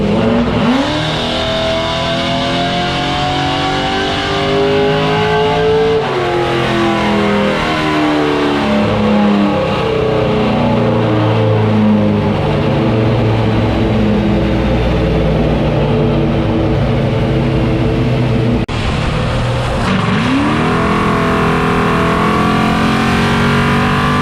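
A carbureted V8 on a Holley Hi-Ram intake with Holley center-squirter carburetors roars on a chassis dyno, revving up through the gears in long rising pulls, very loud and close, then dropping to idle and climbing again.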